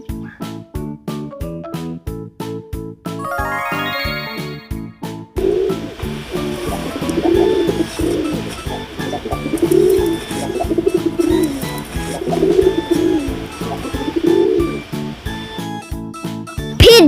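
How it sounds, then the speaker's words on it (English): Pigeon cooing in soft, low, rolling phrases, steady and close, following a brief bright musical jingle and set against a gentle background tune. "Pigeon."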